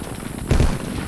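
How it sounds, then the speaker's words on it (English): Gunfire in the Vietcong Vietnam War video game, with enemy tracers flying: one short, loud burst of shots in the middle, heard alone over steady background noise. "Yellow tracers, that's their tracers."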